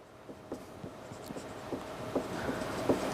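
Writing on a board during a maths lesson on complex numbers makes quiet scratchy strokes and light taps in short irregular bursts, close but faint against a soft room background.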